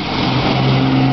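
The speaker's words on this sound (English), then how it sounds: "it's not a car, it's a Jeep" A Jeep's engine gives a steady, fairly loud hum with a low drone, heard alone and without talk for just over a second.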